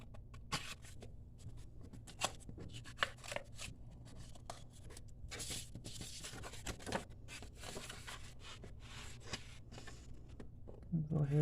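Scissors snip through the sides of a paper pizza-box blank, making a string of short, crisp cuts and rustles with a steady low hum underneath and a louder crinkle near the end.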